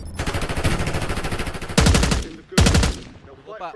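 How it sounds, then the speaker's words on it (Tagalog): Rapid bursts of video game gunfire, loud and close: a long stream of automatic shots, then two short sharp bursts. "Inaantay ni Chikot yung putok ko eh."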